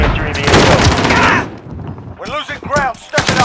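Rapid gunfire in Call of Duty: Modern Warfare multiplayer, a dense, loud burst of automatic shots for about a second and a half, then sparser shots under a voice talking.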